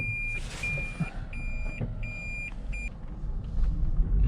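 A Toyota Prius V drives along with a steady low road rumble, while a repeated high electronic warning chime beeps in short pulses through the first few seconds inside the cabin.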